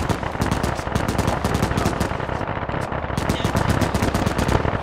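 German machine gun fire in a WWII video game set in Belorussia: loud, continuous rapid-fire bursts hammering without pause, harsh and close.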